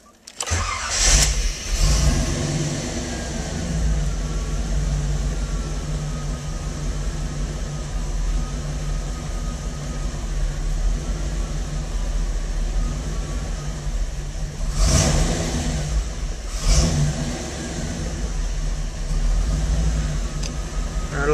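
A 1988 Camaro engine with a rough idle and a tendency to stall rumbles loudly and unevenly up close, with sharp revving bursts as the throttle is blipped near the start and again twice later.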